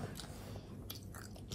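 A child chews cereal with quiet, crunchy bites and chewing close up, soft repeated crunches at low volume with no talking.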